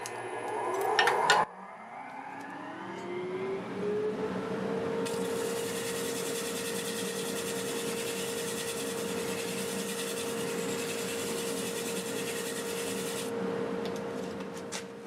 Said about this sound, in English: I take this flat board with sandpaper and I go over this face just to make a nice joint